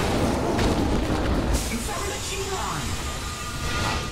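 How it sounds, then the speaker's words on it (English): Rapid revolver gunshots and booming blasts in the Shadow Warrior shooter during a boss fight in hell, loud and dense throughout with heavy low-end rumble. "Revolver time."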